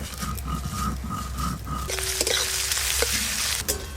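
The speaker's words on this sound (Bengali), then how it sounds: "পেঁয়াজ কুচিগুলো একটু ভালো করে ভাজা ভাজা করে নিয়েছি" Chopped onions sizzle and fry steadily in hot mustard oil, a loud continuous crackle close up, with a few scraping stirs partway through.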